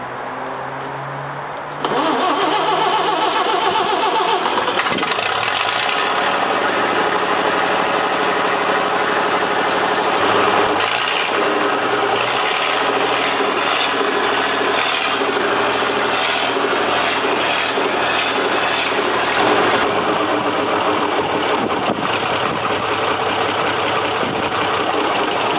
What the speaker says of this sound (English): This 185-horsepower Rolls-Royce diesel powers the 6x6 beast with rugged determination.